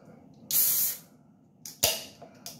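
A soda bottle being opened, with a loud burst of hissing gas lasting about half a second, then several shorter, sharper fizzy releases close by.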